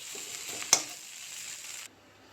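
A fish head ghata with flattened rice, ginger and lemon leaves is stirred as it fries in a pan, giving a steady close sizzle with one sharp utensil scrape near the start before the sizzle quiets.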